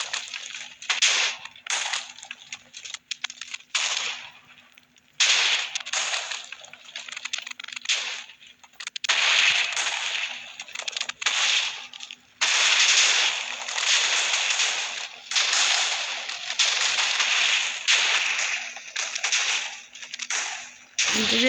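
A huge mass of TNT detonates in a video game, producing a long chain of crackling, rumbling bursts that come in dense clusters with brief gaps, then swell into near-continuous blasting.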